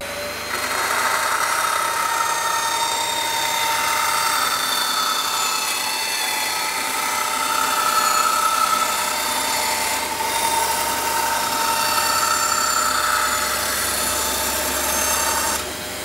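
A Parkside band saw cutting through solid wood, a steady, loud, close whining hum with a rough rasping edge that holds for about fifteen seconds without a break, with no talking.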